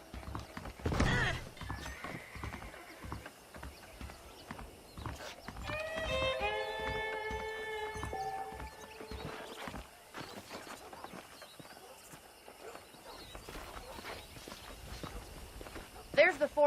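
Horses in the Red Dead Redemption video game: hooves clip-clop in steady rhythm, and one horse gives a clear, drawn-out whinny midway, with someone speaking at times over the game sounds.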